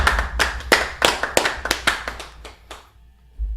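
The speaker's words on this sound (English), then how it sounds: "Everyone starts to clap" Players around a tabletop D&D game clapping their hands, a dozen or so sharp claps in a loose, uneven rhythm, close and loud, thinning out and stopping before the end.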